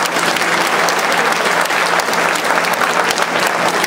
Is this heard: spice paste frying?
no